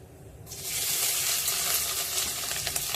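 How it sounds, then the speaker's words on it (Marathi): Finely chopped onion hits hot oil for an Asian seabass fish curry and starts a loud, steady sizzle about half a second in. The hiss holds close and continuous to the end, with no talking. "जिरं फुललं की त्याच्यात बारीक चिरलेला कांदा घालायचा आहे"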